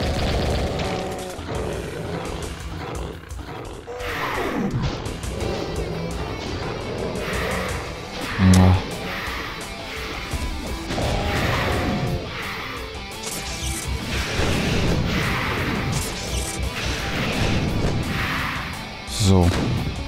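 Gunfire and explosions in the video game Doom 2: Plutonia 2, with repeated weapon blasts, booms and crashes over game noise while someone talks throughout.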